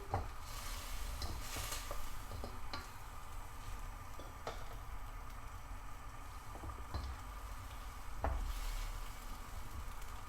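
Chicken shashlik with tomato puree sizzles steadily in a pan over a medium flame while a spatula stirs it, adding intermittent scraping clicks and taps close by, with no voices.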